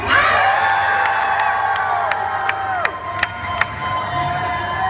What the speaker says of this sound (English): if you're a fan of Sam Willows, scream!